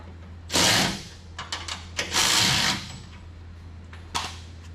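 A power tool runs U-bolts up and snugs them on an RV lift, in two longer whirring bursts and a few short blips, close and loud over a low steady hum.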